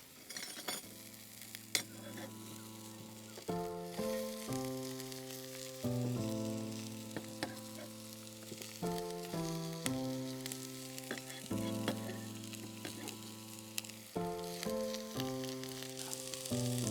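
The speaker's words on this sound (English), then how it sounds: "Throw our onions in." Onions sizzling in a pan over an outdoor camp stove for a shakshuka breakfast, a steady frying hiss running beneath louder melodic background music, with no one speaking.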